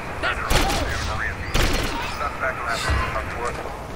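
Automatic gunfire rattles in GTA San Andreas from a silenced gun turned into a machine gun. Two or three sharp bursts cut through while someone talks over the action.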